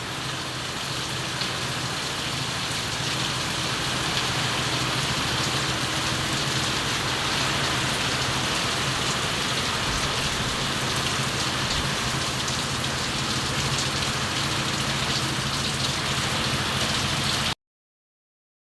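Steady, heavy rain pours down continuously, a dense even patter on surfaces with no other sounds standing out.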